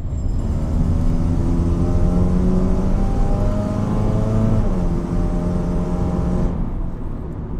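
Mitsubishi Xpander engine revving under half-pressed accelerator while driving at about 30 km/h, a steady loud droning hum with rising harmonic tones, continuous for several seconds before cutting off abruptly near the end.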